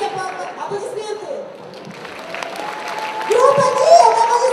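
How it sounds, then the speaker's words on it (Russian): Festival-goers at the Higan 2010 anime festival applaud themselves. Clapping builds gradually and grows louder toward the end, with an announcer speaking over it early on. "Сами себе аплодисменты"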